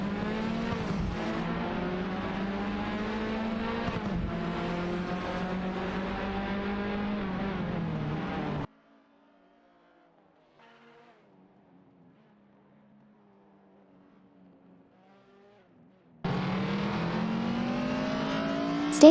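Engines of race cars in a simulated AI racing game, including an Alpine A110 and a Skoda, roar and rev continuously. The engine sound cuts to near silence midway, then returns loudly near the end.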